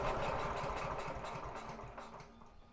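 A Honda four-stroke walk-behind lawn mower engine with a throttle fault runs faintly at a low, uneven idle that slowly fades as it stalls.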